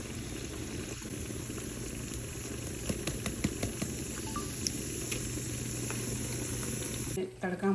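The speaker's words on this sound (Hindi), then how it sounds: "तो हम अपने छोले जो हैं उसमें ये तड़का उसमें डाल देंगे।" Hot tadka poured over cooked chickpeas (chhole) in a home kitchen, giving a steady hissing sizzle with scattered crackles and pops, fairly close, before it cuts off abruptly near the end.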